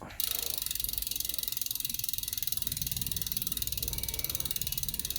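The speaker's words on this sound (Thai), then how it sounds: "ดุมชิมานโน11สปีดนะครับ เสียงดุมก็ไพเราะ" A rapid, even ratcheting buzz from a freewheeling Shimano 11-speed road bike hub, close and steady, clicking continuously without pause.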